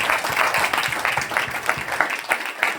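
A church congregation claps together in thanks to the Lord, a lively burst of many hands with uneven rhythmic accents, fairly close and continuing for a few seconds without talk.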